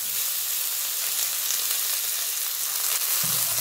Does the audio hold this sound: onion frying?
yes